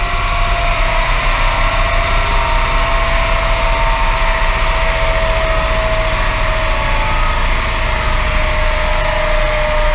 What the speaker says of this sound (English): And then clutch into neutral. Let it roll down, and what it will do is calculate the losses.